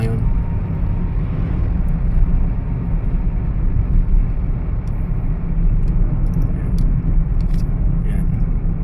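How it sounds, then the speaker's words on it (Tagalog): Large trucks and buses rumble along a road at night, a steady low drone of heavy engines and tyres from inside a moving vehicle, with someone talking over it. "Mga jeep wala, puro bus. Yan. So malalaking truck po yung mga nandito ngayon."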